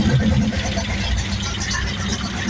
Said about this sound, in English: the battery's extremely weak, so she don't sound great, but we got her running